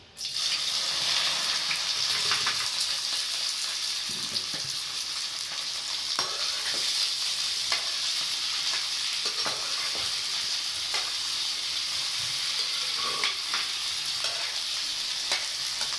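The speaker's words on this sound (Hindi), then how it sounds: "भिंडी को मैं कर लूँगी पहले फ्राई" Okra (bhindi) fries in a pan with a strong, steady sizzle, broken by scraping and clinking stir strokes throughout a long stretch with no talking.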